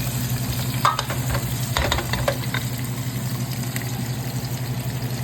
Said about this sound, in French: Nous allons ajouter nos oignons, nos tomates, nos piments de votre choix et tourner.